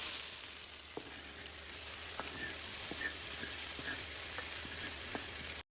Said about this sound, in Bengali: এদিকে আমি চিকেনগুলোকে খুব ভালো করে ভেজে নিচ্ছি